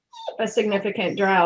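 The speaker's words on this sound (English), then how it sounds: "That's my dog having a temper tantrum." A dog whines and whimpers in short, high, wavering cries, partly buried under a person speaking close by.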